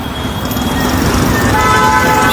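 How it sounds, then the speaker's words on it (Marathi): Congested road traffic on the Ghatkopar–Andheri Link Road in Mumbai, with loud, sustained car horns blaring over the rumble of idling vehicles queued close by, tones overlapping and holding steadily. "तुम्ही बघा किती लाईन लावली ट्रॅफिक आहे."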